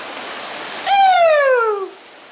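Tunnel Falls on the Eagle Creek Trail in Oregon pours as a steady, broad roar of rushing water, nearby and loud, joined halfway through by a single falling whoop from a voice.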